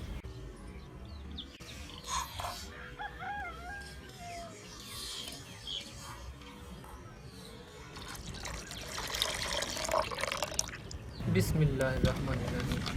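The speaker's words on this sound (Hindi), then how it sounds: "अब हम इसमें शामिल करेंगे दूध।" Milk is poured into a peach milkshake mixture, a soft trickling and splashing that grows louder toward the end over faint room noise.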